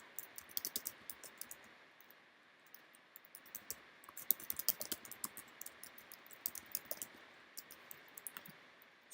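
Steady bursts of crisp, close keyboard typing, irregular clusters of key clicks entering Swift code for a Redis project, continuing without speech throughout.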